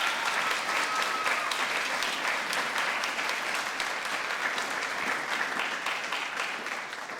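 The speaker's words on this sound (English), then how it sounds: "So big round of applause for them" An audience at a high school spring band concert with a movie theme claps steadily and densely for several seconds, loud and full, tapering slightly toward the end.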